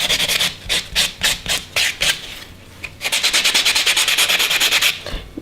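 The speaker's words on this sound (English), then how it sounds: "I'm just buffing over now to smooth that out." A buffer is rubbed back and forth over an acrylic nail to smooth it, giving rapid, close, raspy strokes. A slower irregular series is followed by a fast, even run of short scrubbing passes.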